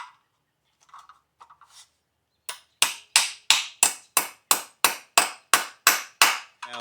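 A few faint light taps, then a steady run of about a dozen sharp hammer blows driving a nail into a floor anchor for garage floor tiles, evenly spaced, close and loud.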